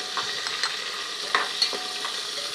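Green chili, red chili powder and turmeric sautéed in hot oil in a pan, a continuous close sizzle broken by occasional stirring clicks and scrapes.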